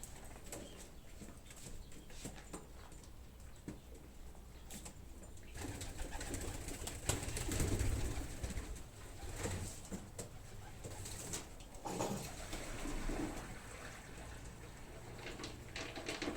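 Pigeons cooing on a rooftop, soft repeated coos mixed with a wash of outdoor background noise and occasional rustles or wing sounds, fairly faint and steady throughout.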